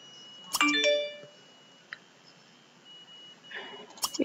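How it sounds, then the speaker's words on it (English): A phone rings inside The Sims 3 video game, with short electronic beeping tones at the start and again near the end, faint against low background hum. "What is that noise? Is that your phone again?"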